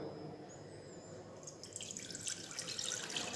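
Water runs from a tap into a saucepan on a gas stove before potatoes are boiled, a quiet steady trickle that grows into a brighter, splashier pour.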